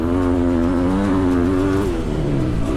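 A two-stroke 500 dirt bike engine revs hard during a motocross race, a loud, close, raspy engine note holding high revs with wavering pitch throughout.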